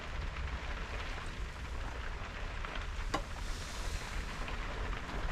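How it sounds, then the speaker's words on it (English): Heavy rain falls during Storm Ciaran as a steady, dense hiss with a low rumbling wash underneath, unbroken throughout and without any voices. "I hope you can hear the rain."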